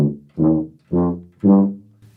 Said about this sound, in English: bopping the note would sound like this